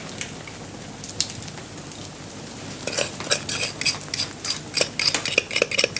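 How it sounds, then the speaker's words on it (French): Sugar is poured into milk and stirred for coupetade, a traditional French dessert; after a quiet start come rapid grainy rattles and clinks that grow busier toward the end. "Puis maintenant, j'ajoute le sucre."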